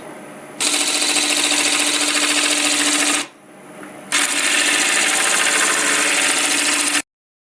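Wood lathe spinning a bowl blank at about 850 RPM, a loud steady whirring hum with a tonal whine, cutting out briefly mid-way before resuming and then stopping abruptly.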